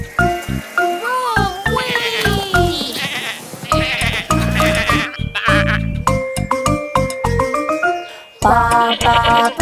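Cartoon sheep bleat repeatedly over a bright, busy children's nursery rhyme backing track with jingling percussion, the bleats loud and upfront throughout.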